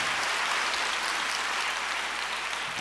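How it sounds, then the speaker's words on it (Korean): Steady applause from a church congregation at a Christmas-season service, dense and even throughout with no break. "큰 박수 올려주십시다"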